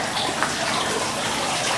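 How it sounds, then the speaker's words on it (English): Running water in a stone garden grotto at the Rothschild garden in Nice, France: a steady, close, full rushing splash that carries on without a break, with no voices. "You can hear the running water."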